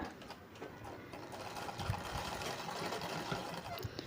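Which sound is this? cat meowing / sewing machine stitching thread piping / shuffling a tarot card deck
sewing machine stitching thread piping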